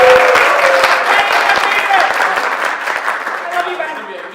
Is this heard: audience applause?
yes